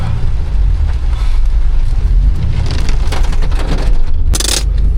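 Steady rain falls outside a garage in broadband patter, with a brief burst of louder splashing or hiss near the end and low rumble underneath.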